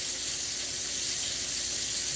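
Cold tap water runs steadily over freshly cooked crabs, a continuous close hiss and spray with no talking.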